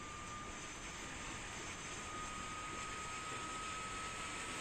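An APU spools up on an iniBuilds A310 in Microsoft Flight Simulator, a steady airy whine with a constant high tone, faint but continuous and slowly building.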